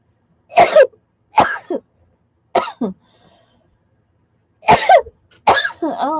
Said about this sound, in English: You'll have to listen to me cough.